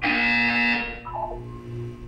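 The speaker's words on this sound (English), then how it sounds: "When you hear the buzzer, look up at the ceiling." A loud harsh buzzer sounds in the Portal 2 game, one sustained electronic blare that cuts off sharply, followed by fainter tonal sounds as it fades.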